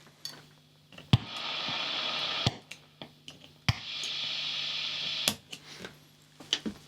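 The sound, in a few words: hiss from Tone City Golden Plexi overdrive pedal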